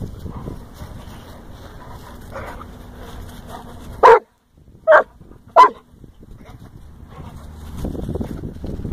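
A dog barks three times, loud and close, in quick succession about a second apart during a game of fetch, with gusty wind and soft outdoor noise before and after.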